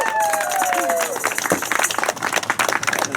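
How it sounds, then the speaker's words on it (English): Audience applause at a western show on the Old Tucson western movie set, a burst of clapping and crowd noise that builds after a spoken line and carries on loudly to the end. "Give him a round of applause"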